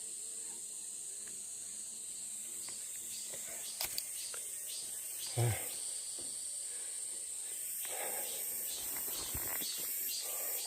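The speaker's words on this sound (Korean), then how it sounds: "지금 매미가 우는 소리도 듣기 좋고" Cicadas sing on a mountainside in summer, a steady bright high-pitched drone running through the whole stretch, with a few brief clicks and rustles in the foreground.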